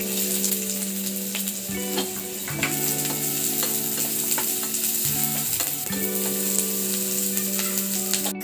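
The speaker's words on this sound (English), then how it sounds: "Add chopped onion." Chopped onion and whole ginger spices frying in a teaspoon of oil in a preheated pan, a steady close sizzle with stirring scrapes and spoon clinks throughout, no voices.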